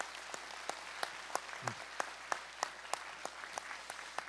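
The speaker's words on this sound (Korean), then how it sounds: "수료증이 전달될 때 큰 박수로 축하해 주시기 바랍니다." A church congregation claps as completion certificates are handed out at a faith-training graduation service, a steady, even patter of many hands with occasional sharper claps, sounding from across a large hall.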